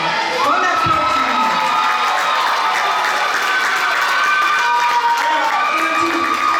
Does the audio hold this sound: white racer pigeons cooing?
no